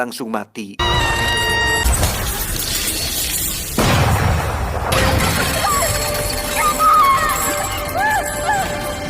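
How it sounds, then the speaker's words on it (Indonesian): A film action scene has a flashbang grenade thrown and shots fired, heard as a loud crashing blast amid dense, continuous booming noise. Short shrill tones appear near the end, and a voice may be present under the din. "Donggu yang sering menjadi kapten skuad pun langsung melemparkan flashbang dan menembak Sina beberapa kali"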